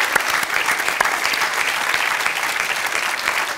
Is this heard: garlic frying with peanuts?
no